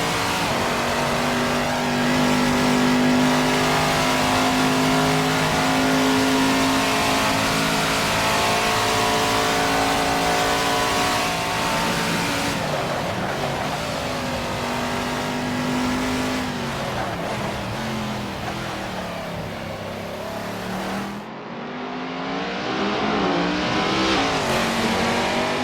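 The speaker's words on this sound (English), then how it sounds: "Driving a V12 BMW at Le Mans as the sun sets" A V12 BMW race car circles Le Mans at sunset in Assetto Corsa, its engine droning loud and sustained at high revs, with a shift in pitch midway and a sudden drop in tone near the end.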